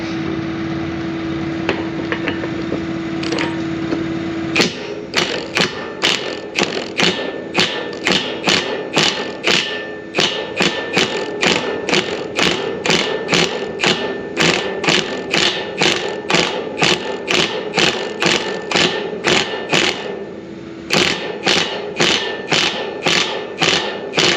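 An impact tool hammers on a stuck, welded pivot in long rapid bursts of sharp repeated blows, loud and close, after a short steady whir at the start; no talk.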